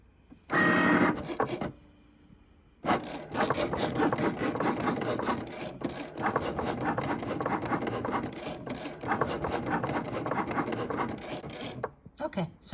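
A Cricut cutting machine slicing through patch material, a steady whirring, rasping mechanical run with rhythmic motor pulses and brief pauses, close and moderately loud after a short quiet start.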